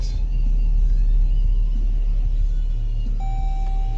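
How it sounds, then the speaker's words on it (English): A car with a self-parking system rolls slowly forward at a dealership, giving a steady low engine and road rumble with no talk; a single tone chimes near the end. "you're going to slowly drive forward until it scans a spot"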